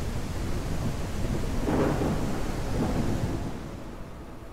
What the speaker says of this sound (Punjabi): ਟਰੈਕਟਰ ਦੀ ਤਾਂ ਆਵਾਜ਼ ਹੀ ਨਹੀਂ ਸੁਣਦੀ ਬਈ, ਇੰਨੇ ਮੀਂਹ ਦੇ ਆਵਾਜ਼ ਆ ਬਾਈ